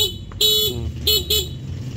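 A Kawasaki HD3 motorcycle horn gives three electric beeps, one longer and then two short ones in quick succession, loud and close, each with a buzzy tone.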